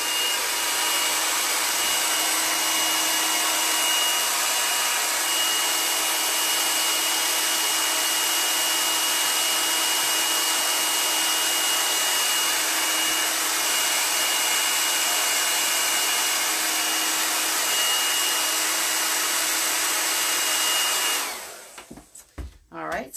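A hair dryer blows steadily and loudly for about twenty seconds, drying chalk paste on an Easter craft, with a constant even roar before it is switched off and a few faint handling noises follow.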